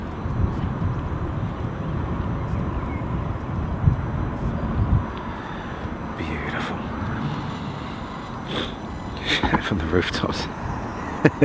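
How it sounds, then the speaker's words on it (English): A small Dornier propeller plane taxis at London City Airport, a steady moderate engine drone heard from a distance beneath wind and ambient noise, with someone talking over it and a few sharper bursts near the end. "So the Dornier making its taxi out."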